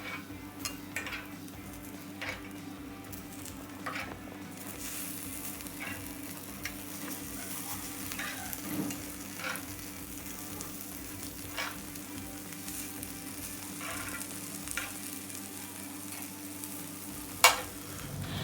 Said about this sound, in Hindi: सिजलिंग डिश को मैं बटर के साथ ग्रीस कर लूँगी और उसमें प्याज सेट कर दूँगी